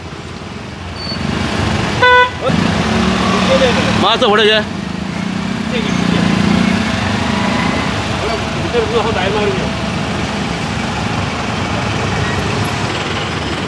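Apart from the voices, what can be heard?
street traffic jam with car horns and engines idling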